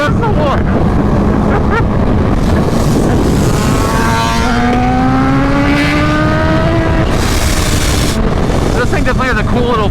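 A supercharged 2023 BMW S1000RR running on E85 roars past with a whining, blow-dryer-like supercharger tone, pitch sweeping up then falling as it passes close and loud amid strong wind noise, a voice cheering briefly.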